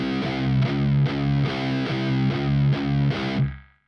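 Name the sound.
heavily palm-muted distorted electric guitar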